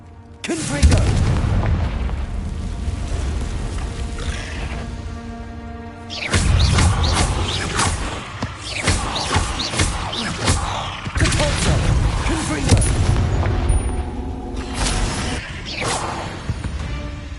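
Repeated booming blasts from Confringo fire spells in the Hogwarts Legacy video game, dense bursts layered over game music and effects, with a heavy cluster of impacts after the first few seconds.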